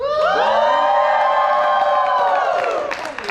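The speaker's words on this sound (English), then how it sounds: "All right, give me a cheer" A crowd of people, including children, cheers and shouts loudly together at a convention, a sustained burst of voices that swells and then trails off near the end.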